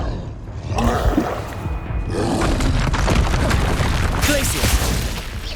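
Bombarda explosion spells booming in the Hogwarts Legacy video game, a steady roar of blasts and magical combat effects running dense and loud throughout, with a voice speaking over the action.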